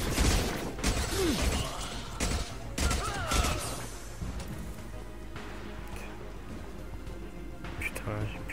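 Rapid bursts of gunfire and clattering impacts fill a combat scene in the video game Mass Effect 2, loud and dense at first, then thinning, with someone talking over it.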